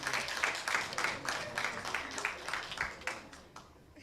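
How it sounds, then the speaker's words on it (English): A courtroom-style gathering of lawyers and judges bursts into applause, a dense crowd of claps sustained for a few seconds before tapering off, fairly distant and moderate in level. "Please clap for her."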